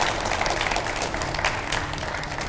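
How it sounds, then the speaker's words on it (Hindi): Sustained applause from a studio audience for a panel of guests, including a Supreme Court advocate, at a televised debate, dense and steady clapping throughout without pause. "और मैं चाहूंगा उतनी ही गर्मजोशी से एक बार फिर इन सब के लिए भी तालियां बजाए जाएं।"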